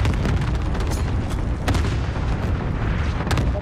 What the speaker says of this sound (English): Oh, I put an airstrike on them